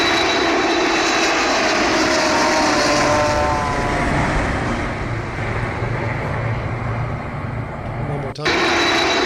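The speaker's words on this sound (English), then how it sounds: "the sound from the Air India aircraft" The Air India Boeing 787 produces a steady jet-engine roar, loud and sustained with a faint whining overtone, that gradually thins and drops off before ending.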